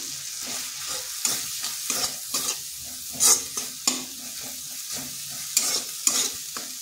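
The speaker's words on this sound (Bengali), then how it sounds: "এটা কষানো হয়ে গেছে" A spice masala sautéed in a pan with salt while it is stirred, preparing a potato filling: a steady hiss of frying broken by repeated scraping strokes of a spoon, close and alone.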